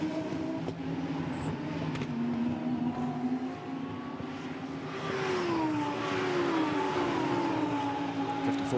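A Lamborghini Super Trofeo race car climbs the banking at Zandvoort, its engine droning loudly with a tone that rises and shifts as it accelerates, alongside other racing engine noise.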